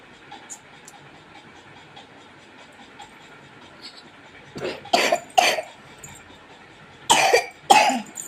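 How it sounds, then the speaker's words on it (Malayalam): After a quiet stretch, a person with a cold coughs twice in quick succession, then pauses and coughs twice more, close and fairly loud. "നല്ല ചുമയും ജലദോഷമൊക്കെ ഉണ്ട്"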